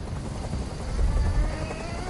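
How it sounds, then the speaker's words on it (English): Helicopter hovering in the video game Detroit: Become Human, a steady, loud rotor drone with low throbbing thumps that swell slightly midway, continuous throughout. "I can't stand that noise anymore. Tell that helicopter to get out of here."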